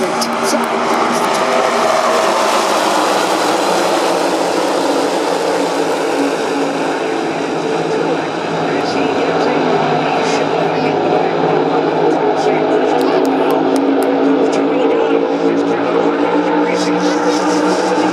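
NASCAR stock cars racing past in a dense pack at the 2023 Coke Zero Sugar 400 at Daytona, a loud, continuous engine roar that swells and fades slightly, with an announcer's voice over it.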